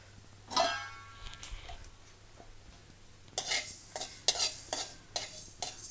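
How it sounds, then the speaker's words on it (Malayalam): Mustard seeds and fenugreek are stirred in a dry pan as they roast for a Kerala mango pickle: scraping strokes and light crackling, with a quiet stretch in the middle and brisk, rhythmic stirring toward the end. "കരിഞ്ഞു പോകരുത് കേട്ടോ, കരിഞ്ഞു പോകാതെ ഇളക്കി കൊടുക്കുക."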